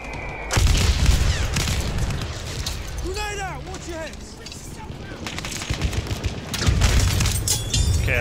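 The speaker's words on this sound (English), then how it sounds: "Grenade out. Watch your heads." Battlefield 1 combat with a thrown grenade exploding in a heavy boom, then a long rumble, with rapid gunfire crackling around it and other battle effects, loud and dense throughout.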